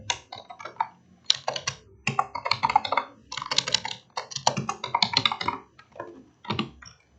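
Computer keyboard keys pressed in quick bursts, including a Ctrl+Enter shortcut, with dense clacking keystrokes spread across the whole stretch and no talking.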